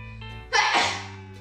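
A single loud, close sneeze bursts out over background music and game sounds while someone plays Super Mario Odyssey in the Seaside Kingdom.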